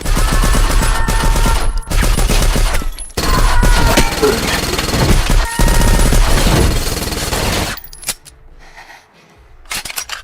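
Rapid bursts of gunfire crackle through a movie shootout, loud and dense for about eight seconds of fusillade before dropping to quieter rumbling and scattered sounds.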